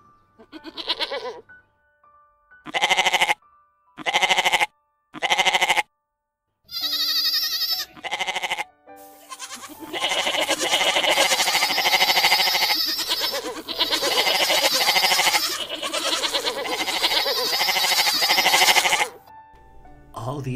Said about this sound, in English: Three goats of different political beliefs and socioeconomic backgrounds, having a deep conversation about the state of world affairs